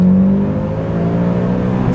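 Mitsubishi Lancer Evo 7 engine revving steadily and loudly in second gear, a sustained close-up drone with a slow rising pitch and a brief shift near the end, no talking.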